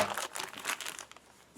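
Plastic bag from a Polish ration pack crinkles and rustles in a run of quick, close crackles that thin out and fade near the end.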